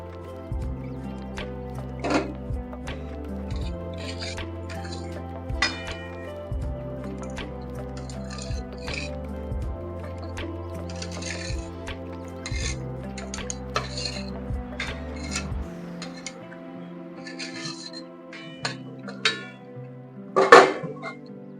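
Paneer goes into an aloo paneer curry gravy in a pan amid repeated clinks and scrapes of a spoon against metal, with a low hum beneath and a louder knock near the end.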